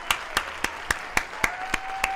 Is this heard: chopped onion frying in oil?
no